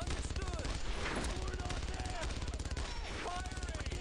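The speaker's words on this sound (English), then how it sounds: "Incoming fire!" Rapid bursts of gunfire and machine-gun volleys from the World War II shooter Brothers in Arms: Road to Hill 30, dense and continuous throughout, mixed with shouted voices and battle noise.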